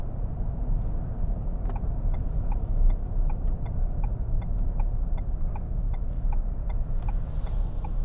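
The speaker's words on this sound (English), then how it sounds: "There's lots of traffic here." Steady road traffic rumbles at a busy intersection, heard from inside a waiting vehicle, with a regular ticking pulse running through the continuous engine and tyre noise.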